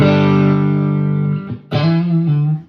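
A loud, sustained electric guitar chord through a MenditTone Tube Overdrive pedal with gain maxed rings out, cuts briefly, then a second thick, distorted chord sounds and fades.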